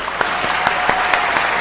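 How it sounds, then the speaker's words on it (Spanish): Studio audience on a televised legal talk show bursts into loud, steady applause, many hands clapping densely and close with a few sharper claps standing out, no talk over it. "al cual le vamos a dar un fuerte aplauso."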